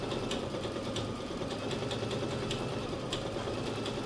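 A Brother ScanNCut machine runs a continuous stitch with a steady, quiet mechanical hum and regular faint ticking pulses, close and alone with no talk.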